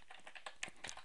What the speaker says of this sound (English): I'm going to type